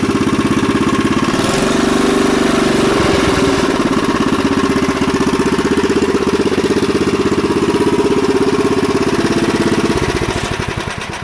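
A 1966 Sears Suburban garden tractor engine idling close by, a loud, steady, even chugging that holds for several seconds and dips slightly at the very end.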